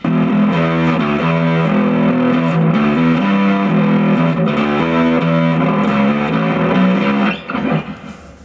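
A thick, fuzzy riff from a cheap bass guitar through a Zoom B2 fuzz preset plays continuously with a saturated, buzzing tone, then trails off and fades near the end.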